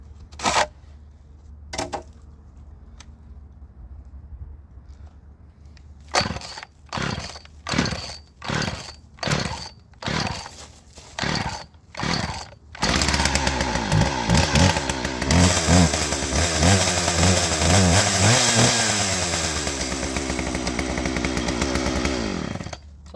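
A Husqvarna 41 chainsaw, hard-starting with a worn carburetor diaphragm and unused for a few days, takes several sharp pull-cord yanks in a steady rhythm, then fires and keeps running loud and close with a raspy, revving two-stroke drone.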